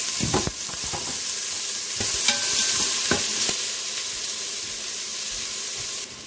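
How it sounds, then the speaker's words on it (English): Onion and garlic sautéing in a little oil in a pressure cooker on high sauté mode, a steady loud sizzle with scraping stirs and a few clinks of a utensil against the pot, close by. "Saute mode, high. A little oil. Aromatics, onion, garlic."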